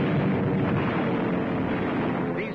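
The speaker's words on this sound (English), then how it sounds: "Our anti-aircraft goes into action." Anti-aircraft guns firing in North Africa in 1942, a loud, dense roar of continuous gunfire and blasts from an old newsreel, with no talk over it.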